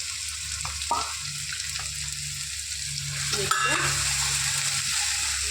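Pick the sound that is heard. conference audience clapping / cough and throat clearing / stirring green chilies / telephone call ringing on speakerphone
stirring green chilies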